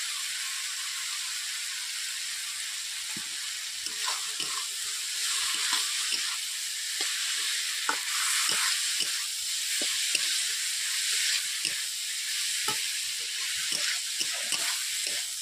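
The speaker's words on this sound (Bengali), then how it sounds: "আলু দেওয়ার পর এইভাবে আমি 2 থেকে 3 মিনিট নেড়ে নিলাম।" Fried potatoes frying in spiced curry masala for a small-fish curry, with a constant bright sizzle and a series of soft scraping stirs repeating steadily throughout.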